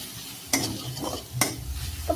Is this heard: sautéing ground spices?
yes